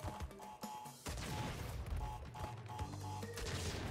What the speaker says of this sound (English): The explosion caught me off guard.